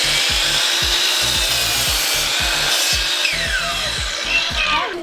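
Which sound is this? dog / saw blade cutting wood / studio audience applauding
saw blade cutting wood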